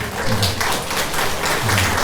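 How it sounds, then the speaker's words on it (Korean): A church congregation claps in welcome, a dense, steady round of applause from many people filling the hall for the whole moment, with no talking. "박수로 환영해 주시기 바랍니다"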